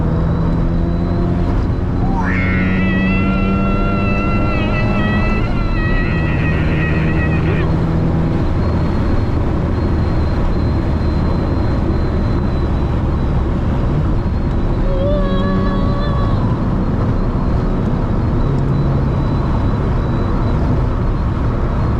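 A 1987 Mazda RX-7 rattles roughly while driving, its loud rotary drone and buzzing vibration filling the cabin continuously, with people talking over it.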